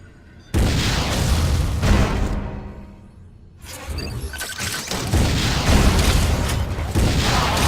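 A missile launch and explosion in the game Metroid: Other M: a loud booming blast, then a brief lull, then a second sustained roar of explosions and debris.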